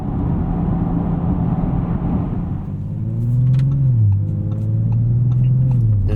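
A 2021 Audi RS5 Coupe accelerating on a highway at night produces a loud, steady engine drone and road rumble heard from inside the cabin, with the engine note rising, dipping at a gear change, then climbing again.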